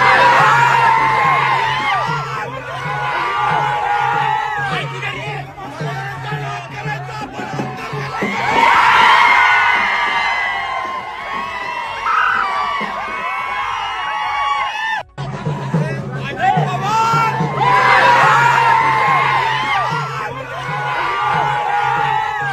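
Party workers celebrating alongside Rajan Patil and his son Balraje Patil raise a loud, sustained din of cheers, whoops and yells, with voices shouting over one another in a continuous crowd roar that swells and dips.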